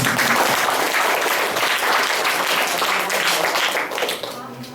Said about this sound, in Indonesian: Tepuk dulu untuk mereka